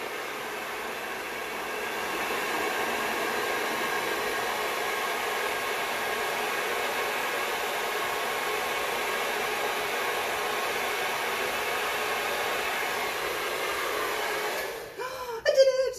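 A hair dryer on a low, cool setting blows paint across a large single sheet for a spin bloom pour, a loud steady whoosh running almost throughout before switching off with a brief clatter.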